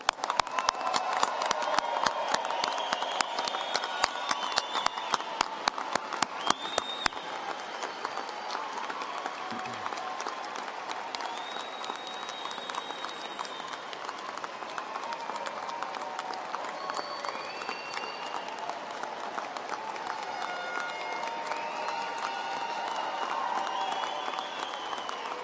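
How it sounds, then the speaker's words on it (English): Loud applause and cheering from a large crowd at a Colorado State University veterinary medicine commencement for 130 new graduates, dense clapping that holds steady throughout with cheers mixed in. "Wow, you guys got a great cheering section here today."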